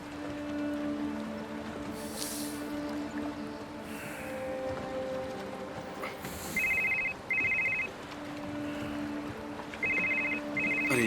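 A telephone rings in a room with a warbling electronic ring, two short double bursts separated by a pause, over a quiet background hum.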